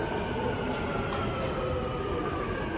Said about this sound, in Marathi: हे आता मेट्रो आली आहे